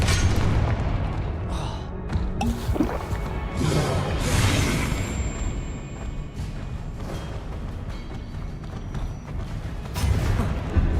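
Confringo blasts in the Hogwarts Legacy video game, several heavy booming explosions and crashes in quick succession amid combat clatter and a few whooshing impacts, loud and close.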